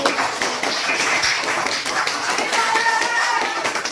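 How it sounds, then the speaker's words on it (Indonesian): A classroom group claps hands together continuously for several seconds, a dense, close and lively patter of applause with no one speaking. "Tepuk tangan buat kita semua hari ini."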